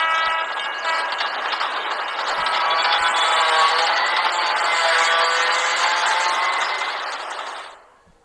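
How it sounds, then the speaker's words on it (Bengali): A train pulls into a station with a loud, continuous rumbling roar and drawn-out metallic tones, holding steady before it fades out quickly at the end. "মামা দেখো, ট্রেন এসেছে।"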